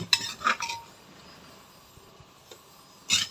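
Metal utensils clink and scrape against a pot while offal is stir-fried, a few quick clattering strokes at the start and again at the end with a quiet pause between.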